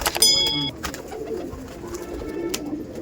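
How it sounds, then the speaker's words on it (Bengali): Pigeons at a loft coo in soft, low calls nearby, with brief bursts of flapping wings and a few sharp chirps at the start. "দেখুন ওই দেখুন কত কত ছটফটে পায়রা"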